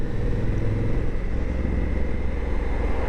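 Honda Africa Twin motorcycle engine with a low burbling rumble while riding, steady and close, joined by wind noise.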